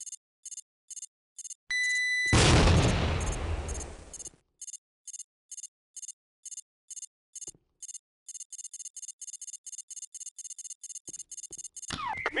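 A grenade explosion in the Tactical Ops video game bursts loud and close after a short pin sound, then rumbles and fades over a couple of seconds, amid regular repeating electronic game beeps before and after.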